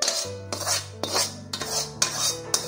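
Roasted magas mixture for a Gujarati sweet being scraped and moved onto a plate with a metal utensil, with repeated sharp clinks and scrapes about every half second, close and fairly loud, and no talking.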